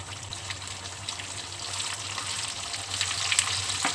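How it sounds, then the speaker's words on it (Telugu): Ginger garlic paste dropped into well-heated oil for a prawn pickle, giving a steady close sizzle and crackle with a low hum underneath, gradually building in intensity, with no talking. "నూనె బాగా వేడెక్కిన తర్వాత నూనె బాగా మరిగిందండి. ఇప్పుడు అల్లం వెల్లుల్లి పేస్ట్,"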